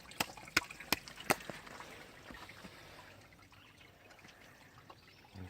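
Spring water trickles faintly outdoors in nature, a soft, quiet flow that opens with a few sharp drip-like ticks before settling into a low, steady murmur.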